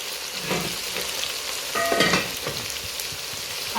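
Aubergine and carrots sizzle steadily in a hot pan, a continuous close frying crackle with brief louder spitting bursts and no talking.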